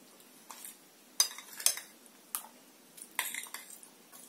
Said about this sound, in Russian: Беспощадно разминаем банан вилкой до вот такого кашеобразного состояния.